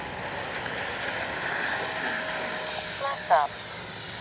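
An E-flite 64mm Viper RC jet with an electric ducted fan whines loudly at takeoff, a high, rising tone that sweeps up in pitch, with a brief voice heard near the end.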